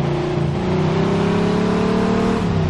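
Sports car engine from Mafia II, a steady mid-revving drone with a slowly rising pitch, close and loud, with no talking.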